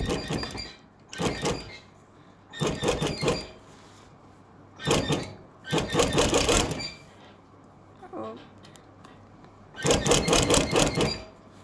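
A sewing machine stitches around kimono piping in bursts of rapid mechanical whirring, about six runs separated by short pauses, close and clear.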